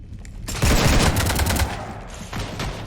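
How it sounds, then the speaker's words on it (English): Rapid gunfire from a ship battle in the Mass Effect video game, a loud dense burst of overlapping shots lasting about a second and tapering into rumbling echoes, with a second smaller flurry near the end. "You want to stop shooting up my ship?"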